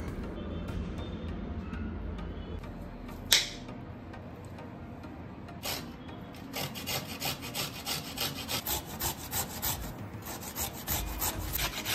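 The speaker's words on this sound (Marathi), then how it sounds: "आता कोबी किसून झाल्यानंतर आपल्याला गाजर किसून घ्यायचं आहे." A peeled carrot being grated by hand, with quiet scraping strokes that start sparse and then settle into a steady rapid rhythm of close rasping passes, with a couple of louder knocks early on.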